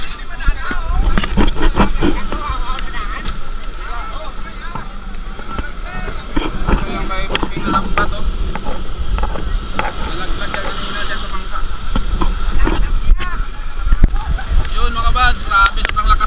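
Strong typhoon wind roars without letup, loud and close, gusting in buffeting surges against the microphone while people speak over it at intervals.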